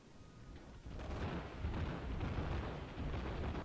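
Naval guns boom from a warship in the World of Warships game, a faint, distant rumbling blast that swells after a second and rolls on as a low sustained thunder.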